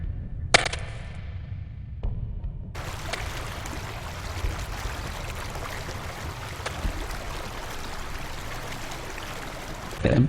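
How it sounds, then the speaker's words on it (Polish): Flowing water in the Gothic video game, a steady rushing stream that carries on continuously at moderate level after a few brief clattering effects at the start. "Co to za dźwięk? Woda?"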